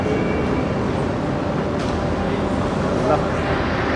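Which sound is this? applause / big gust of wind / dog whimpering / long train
long train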